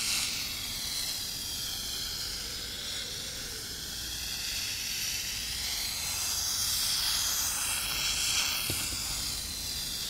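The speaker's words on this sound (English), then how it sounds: "as you see straight away, it starts to fizz and move around, and it's much louder than lithium" A lump of sodium metal fizzes and hisses steadily as it reacts in water, a continuous broad sizzle lasting several seconds with a faint thump near the end and no talking.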